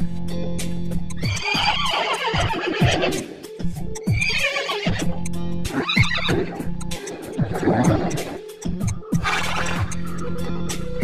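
Several loud horse neighs and whinnies come one after another in an animated riddle, each call rising and falling, with faint hoof clops between them.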